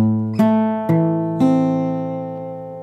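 Fingerstyle guitar picks bass notes with two notes added between them, three clear plucked attacks ringing over a sustained low note, close and alone.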